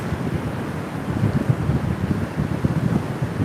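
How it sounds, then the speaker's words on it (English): Strong wind buffets the microphone in a constant low roar on a beach at Khao Takiab, Thailand, gusting unevenly, with surf rumbling underneath and no voices. "It's really windy."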